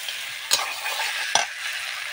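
Mutton kosha is stirred and fried in a pan over a wood-fired stove: a steady close sizzle with two sharp scraping stirs of the spoon about a second apart.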